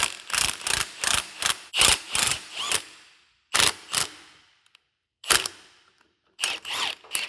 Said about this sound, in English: it's improper tool usage to use an impact on one of these ball joint tools